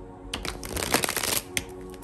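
Tarot cards are shuffled up close in a quick burst of crisp riffling and flicking, with a final sharp tap, heard alone without talk.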